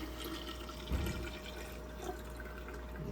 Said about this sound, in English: we're gonna pour this into the jar carefully